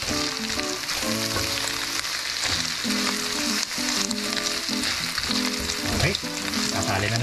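Corned beef frying in a pan while being stirred, a loud continuous sizzle with scraping and clattering from the utensil moving the meat around, close by and uninterrupted.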